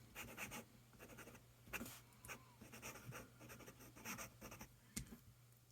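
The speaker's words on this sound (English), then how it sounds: "I always write at a bit of an angle" A fine architect-nib fountain pen moves across paper at close range, making soft, scratchy strokes that come in short irregular bursts with brief pauses between them. The sound is quiet and there is no talking.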